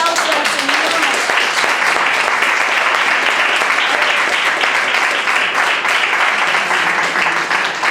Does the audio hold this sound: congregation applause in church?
yes